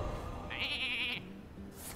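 Sheep in the video game Shiv Me Timbers letting out a single short, nasal, wavering bleat, clear and close over low game background sounds.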